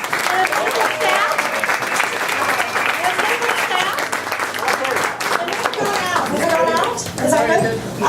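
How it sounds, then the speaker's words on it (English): A crowd at a fundraiser held at the Schubas venue breaks into loud, sustained applause, with dense clapping and some cheering that keep going throughout, and voices are heard mixed in. "I would love us to give a big round of applause to Schubas"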